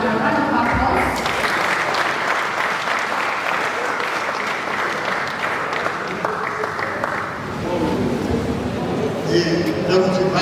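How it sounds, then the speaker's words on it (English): A lecture audience at a valedictory lecture breaks into dense, steady applause that fills most of the stretch, then thins as a voice begins speaking near the end. "round of applause"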